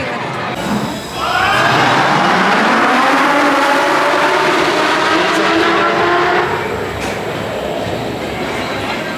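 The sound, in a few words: Red Force roller coaster launching at Ferrari Land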